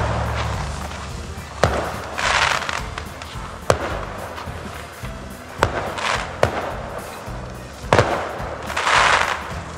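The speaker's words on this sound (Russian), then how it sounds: "Первые салютики" New Year fireworks bursting over snowy, frozen Pushkin near Saint Petersburg: a series of sharp, fairly close bangs spaced a second or two apart, each followed by a crackling, hissing spray.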